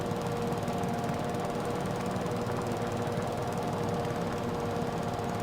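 Mulching mower running steadily in Farming Simulator 22, mowing around a farm and barn: a continuous, dense engine drone with a rough, buzzing texture, loud and unbroken throughout with no talk.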